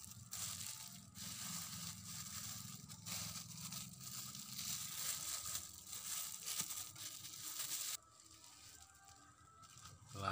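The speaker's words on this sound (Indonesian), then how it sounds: "Selanjutnya kita tutup pakai plastik yang sudah disediakan ya." Plastic sheeting is wrapped around a banyan tree branch for air layering, making close, continuous crinkling and crushing rustles that stop abruptly near the end, with no speech.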